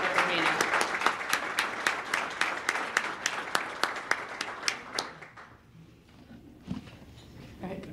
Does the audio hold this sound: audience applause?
yes